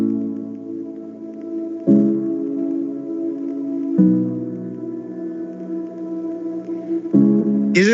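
A mystic drone blends with a synth chord progression, with four sustained pad chords changing roughly every two to three seconds over the steady tone, rich and layered, with no voices.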